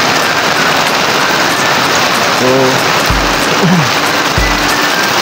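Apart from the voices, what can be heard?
heavy rain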